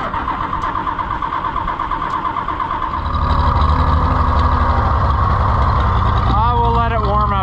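Engine on a hay-moving vehicle turning over and catching, then settling into a loud, steady idle as it warms up in cold wind, with a voice talking over it.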